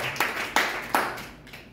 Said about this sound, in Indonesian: Berikan tepuk tangan yang paling meriah